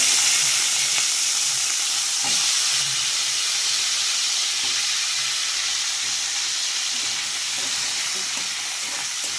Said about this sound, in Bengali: এবার আমি ওই তেলে আলুগুলো ভেজে নেব